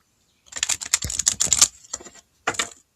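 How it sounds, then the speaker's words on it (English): A deck of cards riffle-shuffled during a live card reading: rapid crisp clattering bursts that run about a second, then two shorter bursts, close and fairly loud with no talk. "One more shuffle."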